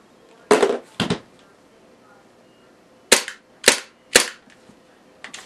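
A WE ISSC M22 CO2 airsoft pistol fires five loud, close, sharp shots: two quick ones, a pause of about two seconds, then three more at an even pace.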